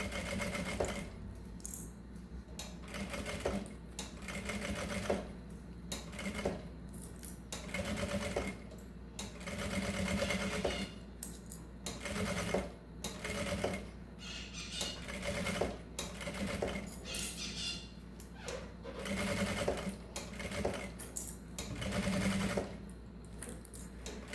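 A sewing machine stitches steadily around the edge of a mesh fabric pouch, its motor running in bursts with brief stops between runs, close and fairly loud throughout.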